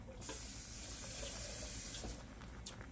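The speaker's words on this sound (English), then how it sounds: "I just poured a half cup of water in there." Water pours into a baked turkey spaghetti dish in the kitchen, a steady hissing splash running close and fairly loud for about two seconds before it stops, with a small clink near the end.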